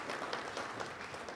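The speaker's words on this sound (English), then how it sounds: "And a round of applause for our guests." Applause from a seated audience for guests on stage at a Polish space-industry event, a dense, steady patter of many hands at moderate distance, fairly faint and continuous throughout.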